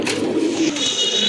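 Close, loud cooing of pigeons kept for sale as rare fancy breeds, soft repeated throaty calls over a slightly busy background.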